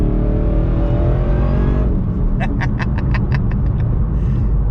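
A 2017 Roush Stage 3 engine roars loudly and steadily, its pitch climbing as it accelerates, then settling into a rough rumble with rapid crackling pops.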